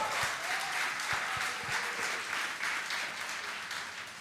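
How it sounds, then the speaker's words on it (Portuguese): A church congregation at a Nazarene sermon applauds in steady, dense clapping throughout, moderately distant and fading slightly toward the end. "Você pode aplaudir o nome do Senhor?"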